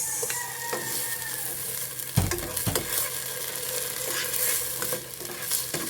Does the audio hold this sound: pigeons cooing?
no